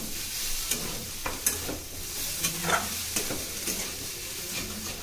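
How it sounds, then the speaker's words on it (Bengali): Potato and chickpea curry stirred in a pan, a soft constant sizzle with intermittent spatula scrapes and taps at an uneven pace, close and moderately quiet. "মিষ্টি দিয়ে একটু নাড়াচাড়া করে নামিয়ে নেবেন।"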